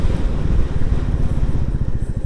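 A tractor drives past on a road by Cottam Church, its loud, low engine chugging steadily and close throughout with no break.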